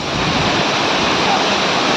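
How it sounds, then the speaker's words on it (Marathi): Dense, unbroken roar of heavily falling water at Ranpat waterfall in Konkan, loud and close, with no pauses. "एवढं पाणी स्पीडनी पडत आहे वरून"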